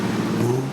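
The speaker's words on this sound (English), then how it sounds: "revving it up some" A Jeep's straight-six engine revs up briefly at a 4x4 off-road club challenge, a steady mid-pitched engine roar held for under a second.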